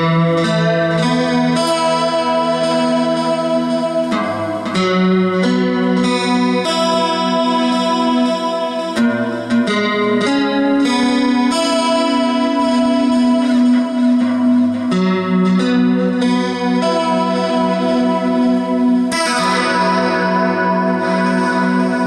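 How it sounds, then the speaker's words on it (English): An electric guitar plays sustained chords and notes with a lush, shimmering stereo chorus effect and some reverb, full and loud throughout. "let's just see how a tri-chorus stereo effect sounds here."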